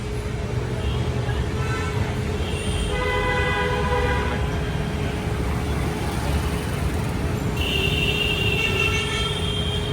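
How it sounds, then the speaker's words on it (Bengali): A Kolkata tram passes along a busy street with a steady rumble under city traffic, broken by a few short horn-like toots partway through and again near the end. "এই যে কলকাতার ট্রাম চলে যাচ্ছে"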